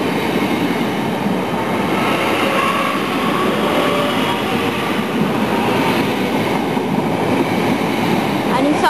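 A British Rail Class 465 electric multiple unit in Southeastern livery passes close by, giving a loud, steady roar of wheels and motors that fills the whole stretch, with faint rail clatter and no voices.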